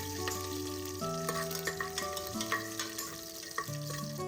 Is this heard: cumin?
yes